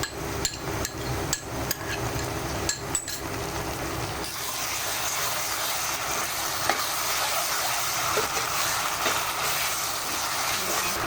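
Spices, onion and ginger-garlic paste fry in a pan. Sharp knocks of a spoon against the pan come first, then a steady, broad sizzle continues to the end.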